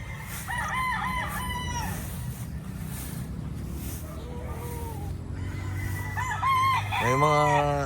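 Roosters crow loudly among chickens in tall, overgrown grass on a Philippine gamefowl farm, with two clear crowing calls near the start and end over a low rumbling background.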